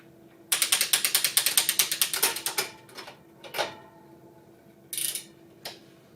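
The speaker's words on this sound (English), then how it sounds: "First we'll need to remove the rear wheel." Bicycle rear wheel being removed, its freewheel ratchet giving a fast, loud run of close clicks for about two seconds, then a few isolated clicks and knocks, with no talk.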